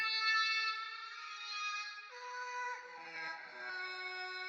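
A horror-style vocal sample with lowered formant, reverb, stereo separation and EQ cutting highs and lows sings sustained, eerie tones that shift pitch midway, clean and isolated.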